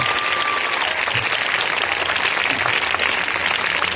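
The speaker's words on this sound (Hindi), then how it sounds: "एक अच्छी ताली बजाकर प्रभु के लिए जोर से।" Sustained, dense applause from a large church congregation, steady and loud throughout with no pauses.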